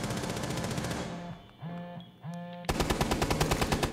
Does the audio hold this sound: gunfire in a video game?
yes